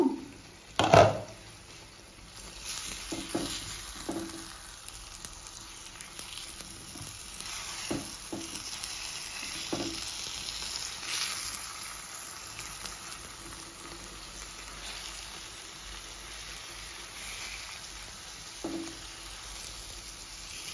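Fish pieces frying in hot oil in a pan after being flipped, a steady close sizzle with occasional louder pops and spatters, plus a clatter of utensil against the pan near the start.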